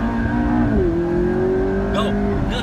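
A McLaren MP4-12C accelerates hard, its engine note climbing steadily in pitch as a loud, close drone throughout, with a voice breaking in near the end.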